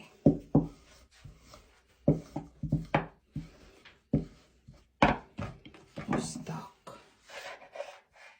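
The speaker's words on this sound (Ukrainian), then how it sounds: "Ось розкатали тісто. Зараз будемо його нарізати." Rolled-out dough being cut into strips on a board, a series of short, dry knife chops and scrapes in uneven bursts, close and clear with no talk.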